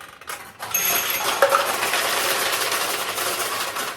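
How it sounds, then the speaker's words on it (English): Metal balls of a restored 1973 Nishijin Model A pachinko machine rattle and clink as they drop into the center tray, a busy close-up cascade of small metallic hits lasting a few seconds. "what you just heard is more balls going into the center tray"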